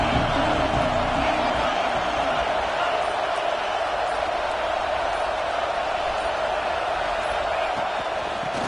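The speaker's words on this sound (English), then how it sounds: "Listen to the crowd energy here in the early going." A dense, continuous roar of a large stadium crowd at an American football game, steady and loud throughout with no clear breaks.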